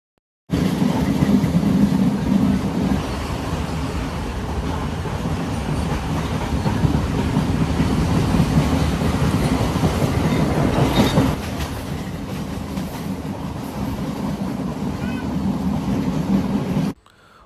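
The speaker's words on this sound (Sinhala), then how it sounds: "අපි මේ ට්‍රේන් එකට නැග්ගේ අම්බුලන්ගොඩ ස්ටේෂන් එකෙන් උදේ 9ට" A passenger train runs along the coastal line from Ambalangoda towards Galle, heard from on board as a loud, steady rumble with rhythmic clickety-clack of wheels on rails, and the noise drops slightly partway through.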